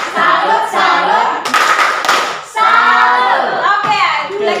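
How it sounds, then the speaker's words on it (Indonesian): A classroom of students claps hands in quick rhythmic bursts, loud and close, with voices chanting "salut" along between the rounds. "Mari kita berikan tepuk tangan untuk nomor 1."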